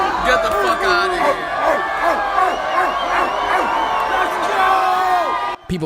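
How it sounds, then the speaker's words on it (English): A packed concert crowd at a hip-hop showcase at SXSW barks in rhythm, a loud sustained mass of repeated bark-like shouts and whoops from many voices layered over music. "People in the crowd are barking."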